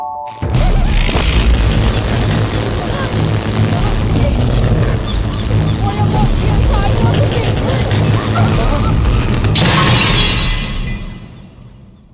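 Lights bursting in a comedy movie scene, a loud sudden shattering boom followed by a sustained crackling rumble, then a second sharp burst near the end before fading out.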